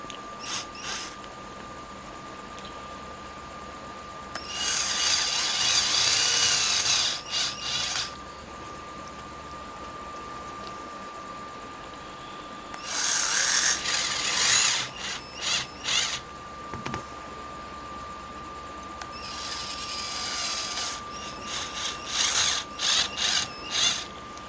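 Screws are tightened on a clutch cable rigged to drive a DC room cooler water pump, producing three close bursts of rapid ratcheting clicks with quieter stretches between them and a steady high tone throughout.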